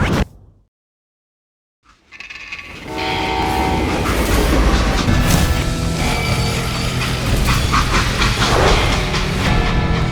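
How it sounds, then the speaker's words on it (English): A train runs on rails in the Western game Call of Juarez: Gunslinger: after a brief silence, a loud, steady rumble of railcars with rhythmic clatter builds in and continues to the end, with no talk. "How'd they stop this train in the first place?"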